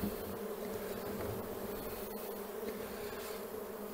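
A honey bee colony being rescued from a chimney gives off a dense, continuous buzz of many insects, steady and fairly soft, with no talking.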